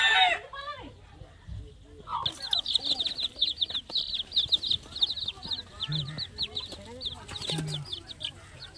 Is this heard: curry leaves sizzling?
no